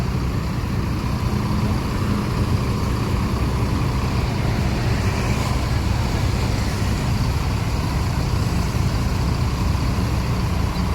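Continuous traffic rumble as Putra Remaja Skylander R22 buses and other vehicles pass along a road, an even, unbroken wash of engine and tyre noise with a slight swell midway, no talking.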